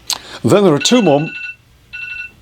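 Close speech with a phone's repeating electronic ring tone pulsing underneath, then the ringing continues faintly on its own after the voice stops.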